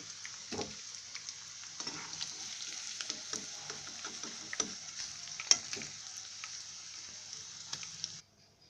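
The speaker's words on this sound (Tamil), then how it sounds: "ஜஸ்ட்டு ஒரு ரெண்டு நிமிஷம் மட்டும் இதில் ஃப்ரை பண்ணிக்கிட்டால் போதும்" Paneer frying in oil in a kadai, a close crackling sizzle with scattered pops and stirring taps that cuts off abruptly near the end, no voices.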